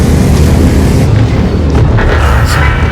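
Tank main gun fired in a tank video game, a single heavy booming blast that rolls on as a dense low rumble.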